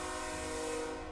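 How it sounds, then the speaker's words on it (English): A train passing, a steady loud rolling rumble with a sustained horn-like tone held throughout, heard alone with no voices. "train sounds."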